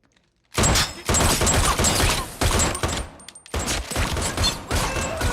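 Automatic gunfire rips in loud, close sustained bursts aimed at a suit in a movie scene, with a short pause in the middle before another long volley.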